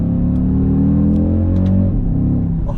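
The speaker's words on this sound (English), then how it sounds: "Blip the downshift, listen." An Audi RS Q3 engine revving through a downshift blip, a loud close rumble from inside the cabin that holds steady, then dips and swells briefly as the revs jump.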